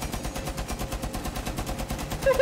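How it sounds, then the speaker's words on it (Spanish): Rapid gunfire from a Rainbow Six Siege match, shots rattling in a steady fast burst with a few louder cracks near the end, no talk over it. "no paran de escucharse tiros en el mapa"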